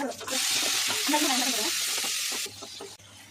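Dried red chillies and shallots fry in hot oil with a loud, dense hiss and crackle that drops away sharply near the end, leaving faint background noise.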